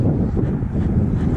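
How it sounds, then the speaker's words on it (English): Wind gusting across an open pond in Murphy, Texas, a steady low rumbling roar buffeting the microphone throughout, with no voices. "the wind is kicking up, so we're having to cast kind of upwind"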